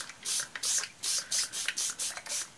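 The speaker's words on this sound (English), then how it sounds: "So let's spray that with water." Water spritzed from a spray bottle onto an oxide ink background on paper, about eight short hissing bursts in a steady rhythm, close and fairly loud with no talk.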